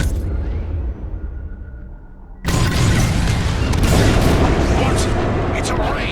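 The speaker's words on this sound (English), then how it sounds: "It's bombs away." Bombs explode in the Star Wars Squadrons space combat game. A sudden loud blast is followed by a sustained roaring rumble of detonations, with voices underneath.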